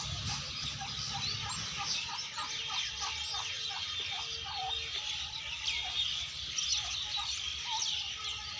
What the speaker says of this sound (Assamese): ইয়াতে ৰাখিছে টাৰ্কি চৰাই